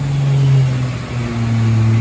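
Turbocharged 2JZ engine in a Lexus IS300 running on E85, revving loud and close with a deep droning tone that rises and falls briefly, with no voices.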